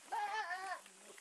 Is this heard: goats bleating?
yes